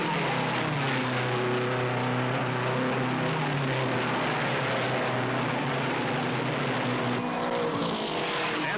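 Thirty-three race cars from the 1961 Indianapolis 500 roar down the backstretch, a loud, continuous, droning engine wash with no break in the sound.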